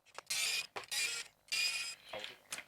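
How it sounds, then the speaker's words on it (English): Screws on a Panasonic CF-19 Toughbook keyboard being undone by screwdriver, three separate bursts of dry ratcheting, scraping turns with short pauses between them, close and fairly quiet. "We are going to undo those 4 screws."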